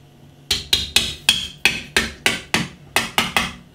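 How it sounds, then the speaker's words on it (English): Hammer blows striking a can of Simcoe double dry-hopped NEIPA craft beer, about a dozen sharp metallic thwacks in fairly steady rhythm, each with a short ringing decay, close and loud with no talk. "And I'll just get a hammer."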